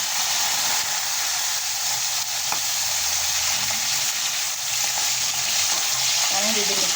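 Fish frying in hot oil in a home kitchen pan, a loud steady sizzle and crackle close up that runs for the whole stretch, with faint speech underneath.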